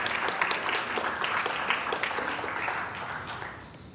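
An audience claps steadily at a science-and-music talk, dense applause that fades toward the end with no voices over it.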